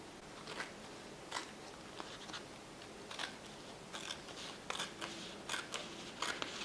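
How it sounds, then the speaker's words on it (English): Repeated crisp snips and crunches, fairly close, spaced irregularly over a quiet hiss, as scissors trim the overhang of paper planner stickers. "I just take my scissors and I just cut that overhang off."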